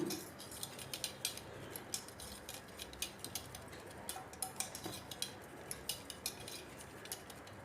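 A whisk beating chicken 65 batter in a bowl, rapid rhythmic clicking and scraping strokes repeating steadily at close range, with no talking.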